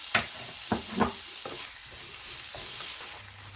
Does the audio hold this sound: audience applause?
no